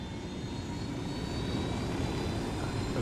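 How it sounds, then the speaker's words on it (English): An army helicopter in the video game Ghost Recon Wildlands drones steadily and loud throughout, a continuous engine and rotor roar with a faint high whine and no talking. "successfully stealing an army helicopter to round off an episode"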